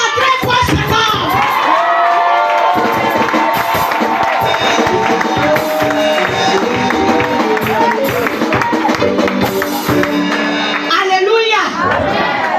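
A church congregation at a Pentecost seminar cheers and acclaims loudly, a dense roar of shouting and whooping voices with scattered clapping that holds steady at full volume throughout.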